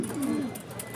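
A racing pigeon arriving at its loft after a 90 km race coos once in a low, rolling call, close and clear over steady outdoor background noise.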